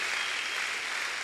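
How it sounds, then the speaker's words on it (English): A brief burst of church audience applause, a uniform rush of hand clapping at moderate distance with no talking over it. "You better give a hand clap to God, my friends."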